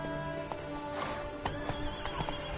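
Roach, the horse in a video game, trotting with clip-clopping hooves and a whinny or snort, close by and fairly quiet, with sharp hoof strikes scattered irregularly over the short stretch.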